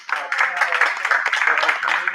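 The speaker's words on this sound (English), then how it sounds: "gracious round of applause" An audience at a climate-themed live event gives a round of applause, a brief burst of crowded clapping at fairly close range with some voices blended into it.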